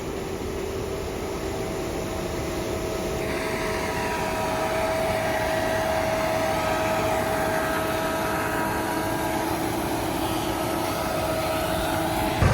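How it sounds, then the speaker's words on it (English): A New Holland combine harvester cuts crop in the field, giving a steady, loud, broadband machine roar with a constant engine hum that runs throughout without a break. "This is our combine, our New Holland."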